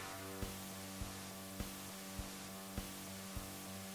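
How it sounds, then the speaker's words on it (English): White noise in the soundtrack of an indie video game: a quiet, steady hiss with an underlying hum, marked by soft regular ticks about every 0.6 seconds, with no voices. "it sounds like they're just using like a white noise generator"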